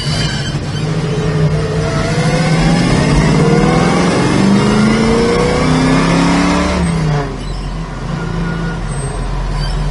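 A 1968 Chevrolet Camaro with a strong 350 V8 accelerates hard from inside, its engine note climbing in pitch through a couple of upshifts before easing off to a lower steady drone near the end, loud with no talking.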